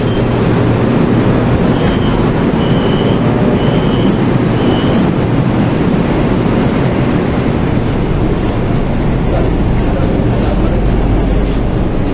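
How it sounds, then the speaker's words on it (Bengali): A train pulls into a station in Malaysia, a loud, steady rumble of rolling railcars with wheel noise and brief high squeals throughout, close by and continuous. "আমাদের ট্রেন চলে আসছে, আমরা এখন ট্রেনের ভিতরে যাব"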